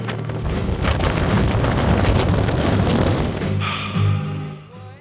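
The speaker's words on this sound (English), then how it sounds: "It's a bit windy." Strong wind buffets the microphone in a loud, rumbling roar that gusts continuously, then briefly eases before a final blast.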